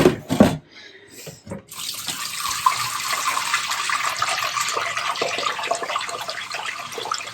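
Water runs steadily from a kitchen tap in a continuous broadband rush after a brief clunk at the start, filling the rest of the clip at close range.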